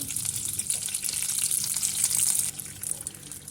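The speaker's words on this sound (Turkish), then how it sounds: "Tavama bir tatlı kaşığı tereyağı, 4 yemek kaşığı sıvı yağını alıp güzelce eritiyorum." Butter and oil heating in a frying pan give a steady, dense sizzle and crackle close by, continuous throughout and dropping slightly near the end.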